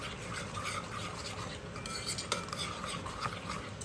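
Chicken tikka marinade mixture being stirred by hand, a steady close scraping and clinking of a utensil against a bowl, continuous with small knocks, no voices.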